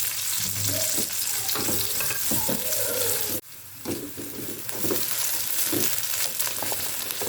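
Kembang duren (karuk flowers) with chili are stir-fried in a pan, producing a loud, continuous crackling sizzle with spatula scrapes and stirring clatter, a brief dip midway and then the frying resumes fully.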